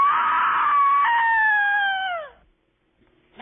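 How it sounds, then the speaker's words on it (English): A loud, sustained female scream from a low-budget horror movie, one long shrieking cry that wavers and then bends downward before cutting off into silence, with a brief noise at the very end. "Here's your scream."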